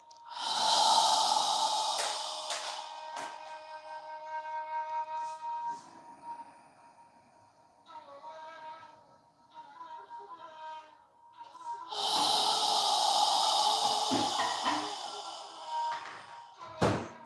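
Slow, deep breaths drawn in and pushed out through the nose during a guided yoga flow, two long breathy swells framing a quieter stretch, close and fairly loud with no talking.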